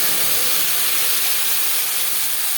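Panch phoron and bay leaves fry in a small amount of oil, giving a steady, even sizzling hiss close by with no talk.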